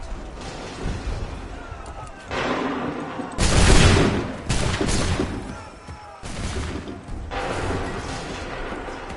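Soldiers fire musket volleys in Assassin's Creed 3. Several loud crackling discharges ring out in separate bursts a couple of seconds apart, each spreading into a rough decaying roar with a background din between them.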